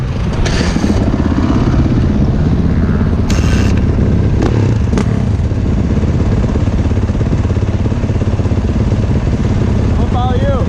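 A dirt bike engine runs at a motocross track, a steady mid-pitched motorcycle drone with occasional clatter and scrapes, heard close while people talk over it throughout.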